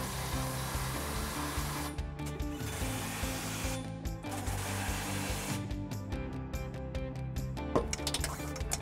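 Impact wrench tightening trailer hitch bolts with a 21 mm socket on a 2015 Dodge Durango, heard as loud mechanical rattling bursts of hammering over steady running noise, with pauses between.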